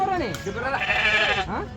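A sheep bleats loudly and close by at a livestock market, a long wavering cry lasting over a second.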